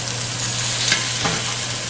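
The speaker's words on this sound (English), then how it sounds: "Listen to that sizzle." Filet mignon steaks sear in a hot pan with a steady, close frying sizzle, constant crackling hiss and a low hum underneath, a couple of brief sharper pops along the way.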